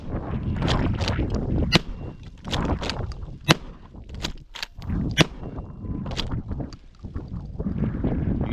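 A Panzer EG220 12 gauge lever action shotgun fires outdoors on ice, with several sharp, loud cracks spread across the span amid wind noise and crunching movement, no talk.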